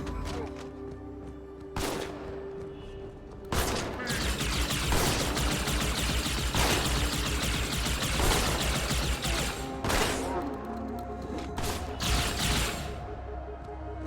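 Shotgun blasts in a Halo 2 cutscene, a busy stretch of dense, sharp gunfire and impacts crackling steadily at high volume for most of the stretch, with a few isolated loud cracks at the start.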